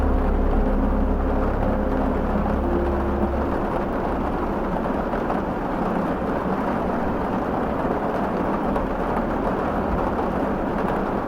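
Steady rain ambience with a dense, even hiss and low rumbling beneath, continuous and fairly loud throughout, with no distinct thunderclaps standing out.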